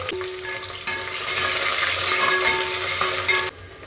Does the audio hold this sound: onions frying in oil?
yes